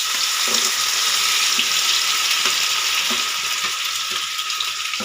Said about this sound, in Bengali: এবার আমি এর মধ্যে দিয়ে দেবো কচু শাকের গুলো